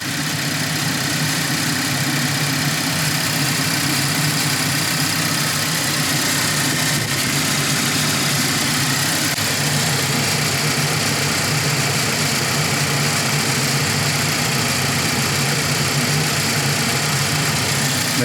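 A 2020 Renault QM6 with a 2.0 GDe gasoline direct-injection engine idles smoothly with the cooling fan and air conditioning running, a steady, even engine hum with a faint vibrating buzz that continues unchanged for about eighteen seconds.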